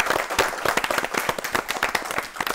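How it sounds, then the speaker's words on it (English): Audience members at a quiz competition clap for the competing teams, a brisk, fairly dense burst of hand claps at close range that continues steadily for a couple of seconds. "So can we have a clap for all the teams?"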